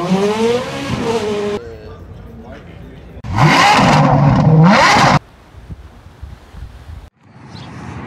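Mercedes-Benz W126 560SEL V8 in manual mode, pulling hard through first gear from a near vantage point, a loud rising engine note with a brief gap as the shift comes, and talk over the opening seconds.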